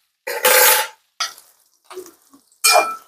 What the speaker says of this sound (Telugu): సో వీటిని మనం వేగనిద్దామండి